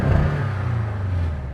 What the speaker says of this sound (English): if you have one of the 4-cylinder models, it never sounds great. In fact, they sound like this.